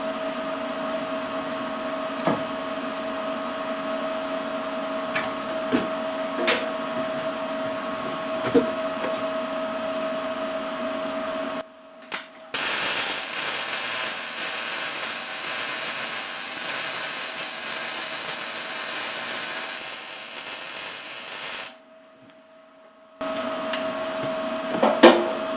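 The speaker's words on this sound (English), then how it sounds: "Now we're going to weld up" Welding a nut onto a washer for core support bolts: a steady buzzing, crackling arc runs close and loud for long stretches, broken by short pauses and a brief quiet gap, with no talk.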